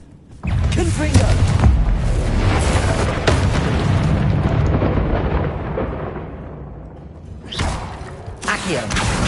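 A Confringo spell explosion in the Hogwarts Legacy video game gives a loud booming blast that rumbles and fades over several seconds. A second burst follows later, with a voice speaking.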